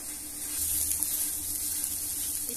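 Samosa potato filling with coriander frying lightly in a pan, giving a steady soft sizzle that stays faint and even throughout, with no talking.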